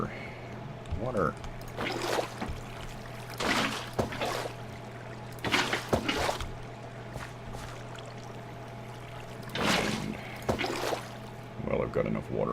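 Running water in Minecraft, heard as faint continuous flow broken by repeated short, louder splashy bursts every couple of seconds.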